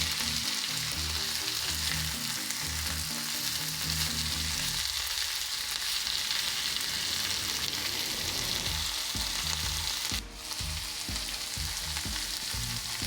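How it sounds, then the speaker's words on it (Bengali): Crispy potato balls deep-fry in oil over high heat, a steady, dense bubbling sizzle running throughout with faint stirring clinks and one brief dip partway through. "হাই হিটে প্রায় পাঁচ থেকে সাত মিনিট ভাজুন"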